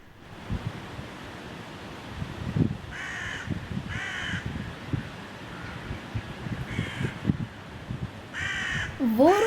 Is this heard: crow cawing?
yes